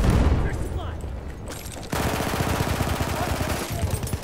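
Automatico submachine gun fire in the Battlefield 1 video game: dense, rapid automatic bursts that start partway through and run steadily to the end, loud and close, with voices talking in the mix.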